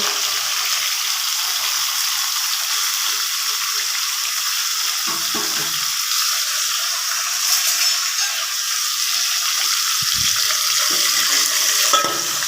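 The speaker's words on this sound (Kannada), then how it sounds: "ಒಂದೆರಡು ನಿಮಿಷ ಮಸಾಲೆಯಲ್ಲೇ ಚೆನ್ನಾಗಿ ಫ್ರೈ ಆಗಬೇಕು" Steady, close sizzling of eggplant frying in hot oil with mustard seeds and curry leaves fills the whole stretch, with occasional scrapes and stirring clatter.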